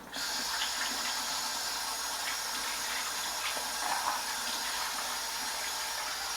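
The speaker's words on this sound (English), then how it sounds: "I tend to just let the water run for a little bit." Water runs steadily from a sink tap in a kitchen, a continuous close hissing splash that starts abruptly and keeps an even level throughout.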